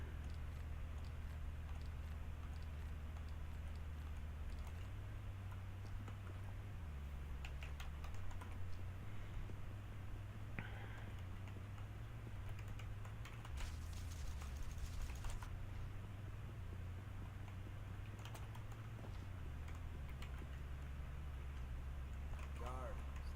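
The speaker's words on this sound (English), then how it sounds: "Hey, my keyboard's noisy. I need a new keyboard as well." Clicky typing on a noisy Razer computer keyboard, steady rapid keystrokes running throughout under a low game hum and occasional game sounds, close and continuous.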